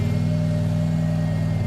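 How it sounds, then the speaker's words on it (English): Honda car engine revving steadily with a rattling exhaust, a loud close rumble holding for under two seconds. "That rattling noise you hear is the exhaust."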